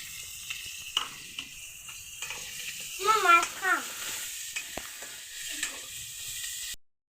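Onions frying in a pan for a chanda fish dish, a low, steady sizzle with scattered clicks, a short chirping tone partway through, then an abrupt stop.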